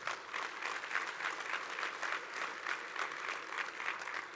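A crowd applauds at an Oregon AFL-CIO union gathering, with sustained, even clapping from many hands and slight pulsing swells throughout, heard without talk.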